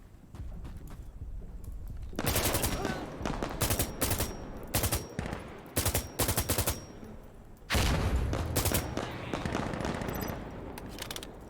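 Video game gunfire in a sandstorm setting: loud, dense bursts of rapid automatic fire in long stretches, broken by short pauses, with sharp individual shots standing out near the listener.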